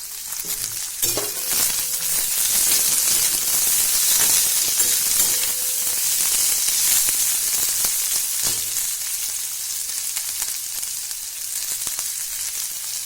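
Carrots, peas, cabbage and tomato sizzle steadily in hot oil in a pan for homemade atta noodles, a loud, continuous frying hiss with occasional stirring scrapes and no talking.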